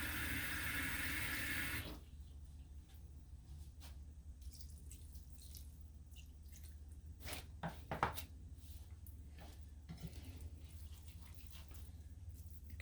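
Water poured into a pot of vegan nooch cheese on the stove, a soft steady trickle and drip near the microphone, with a few faint clinks of utensils and no talking.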